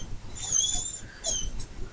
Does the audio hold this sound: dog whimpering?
yes